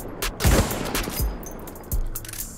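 Sniper rifle hip-fired at close range in Battlefield 1, three heavy booming shots spaced about a second apart, each with a sharp crack and rolling tail, loud and near.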